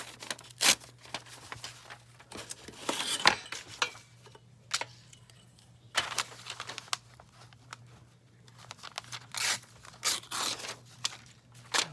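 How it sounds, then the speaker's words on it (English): Paper being torn by hand for a collage background, a string of short ripping bursts with pauses between them, close and fairly quiet over a steady low hum. "So let me just tear this."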